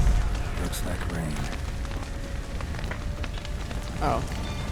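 Rain pours down in the video game The Witcher 3, a constant hiss of drops hitting surfaces that lasts throughout, mixed with other faint game sounds.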